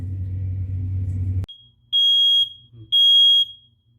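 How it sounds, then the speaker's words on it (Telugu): A low hum cuts off with a click, then a high-pitched smoke alarm beeps twice in long piercing tones, close and loud. "ఆ అలారము ఎలా మోగుతుందో ఇప్పుడు మీకు చూపిస్తాను"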